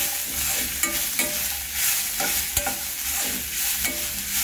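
Capsicum stir-fries in a pan for a vegetable soup, with a spatula scraping in regular strokes and sharp clacks over a steady, close sizzle.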